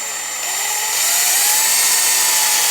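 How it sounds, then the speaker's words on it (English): Power drill boring a hole while fitting a rear disc brake kit on a GY6 scooter, a loud steady high whine that rises slightly in pitch and holds throughout, close to the microphone. "I need to drill a hole exactly right there."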